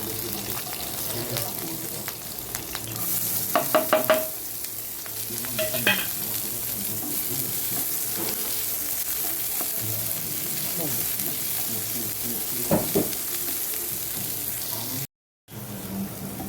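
Chopped garlic, onion and chili frying in leftover fish oil, a continuous close sizzle with bursts of louder crackling and stirring scrapes, plus a brief gap near the end.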